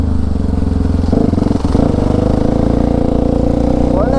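A Kawasaki KLX or Hero Xpulse motorcycle rumbles loudly up close as it is ridden, a steady low engine drone with shifts in pitch and revs, while riders talk over it.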